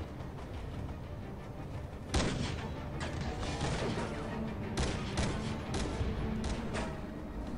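Gunfire from the video game Dead Rising 2, a series of sharp, loud shots and bursts in uneven rhythm over a dense game background, with a strong blast near the start of the volley.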